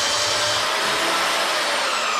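A loud, steady whine of a belt sander grinding against a live-edge pine or cedar board, unbroken for the whole stretch.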